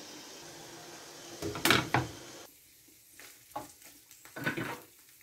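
Thinly sliced onion and two bell peppers frying in a little oil, a soft sizzle with several stirring scrapes and utensil clatters in a quiet kitchen.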